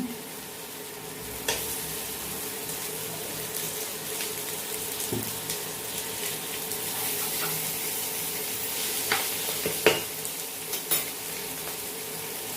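A banana flower dish frying in ghee, a steady low sizzle under repeated spoon stirring and occasional clinks against the pot, close with no talk.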